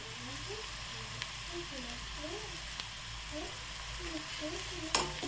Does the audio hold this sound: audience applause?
no